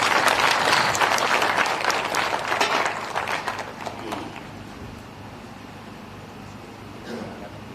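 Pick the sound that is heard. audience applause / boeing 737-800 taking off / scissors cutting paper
audience applause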